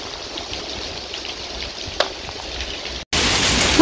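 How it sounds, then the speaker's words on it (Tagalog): Heavy rain mixed with falling ice pellets hisses steadily outdoors in Hungary, with one sharp tick near the middle and a brief dropout before the downpour returns louder. "Umuulan ng ice dito."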